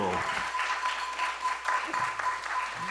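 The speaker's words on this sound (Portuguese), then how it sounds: "Mais aplausos para esse coral lindo." An audience at a Black Consciousness Week gathering applauds a choir, a continuous wash of clapping throughout with a voice speaking over it at moments.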